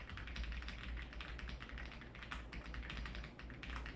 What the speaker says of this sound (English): You heard me typing?